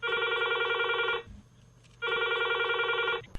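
A telephone rings twice on a radio phone-in show, each long electronic trill separated by a brief pause, clear and close.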